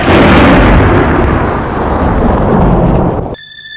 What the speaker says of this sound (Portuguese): Subitamente, do céu claro, ouviram o som de um trovão.